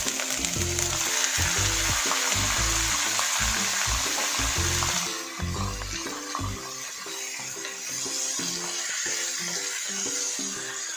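Soaked pork belly hits a hot pan with garlic and dried bay leaves for adobo, a loud continuous sizzle with clattering stirring in the first half, then a steadier, slightly softer frying hiss.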